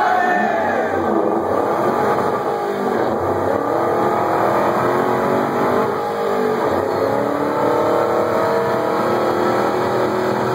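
Ford Shelby GT500 Mustang engine held at high revs on a dyno at the Chicago Auto Show, a loud sustained roar with a rising and falling pitch that fills the clip, with crowd noise underneath.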